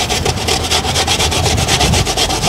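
A coconut is grated by hand on a beach, giving a steady, close rasping scrape repeated in a quick, even rhythm with no talk over it.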